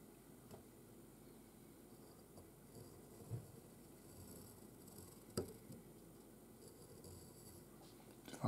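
A pencil scratches and scrapes across paper as lines are drawn out for a thermal insulation pattern, quiet and close, with a few short strokes and light taps.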